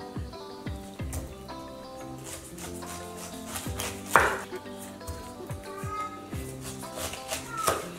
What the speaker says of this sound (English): So now I'm going to cut the pineapple